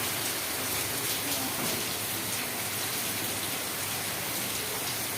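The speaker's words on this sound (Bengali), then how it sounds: "কেমন বৃষ্টি পড়তেছে" Heavy rain pours steadily outdoors on a dark late morning, a dense, unbroken hiss of drops striking surfaces with no voices over it.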